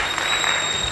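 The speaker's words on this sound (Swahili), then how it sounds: "Tupige makofi kwa ajili ya kina mama." Comedy-show audience clapping for mothers on Cheka Show, a brief burst of dense, even applause lasting about a second.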